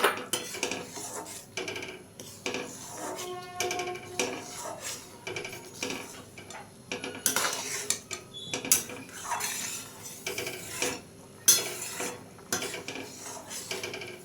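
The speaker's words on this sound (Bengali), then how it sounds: "নাড়াচাড়া করে নিচ্ছি কারণ এখন ঘন হয়ে এসেছে" A spoon stirs thickening vermicelli payesh, a Bengali milk pudding with ghee and fried dry fruits, in a pot, making irregular metallic scrapes and clinks against the sides and bottom, close and intermittent, with no speech.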